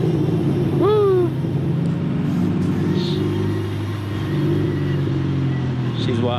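A tuned 300+ kW Volkswagen Golf 7 R approaches, its engine a deep rumble that builds and then holds. A voice shouts over it as the car nears.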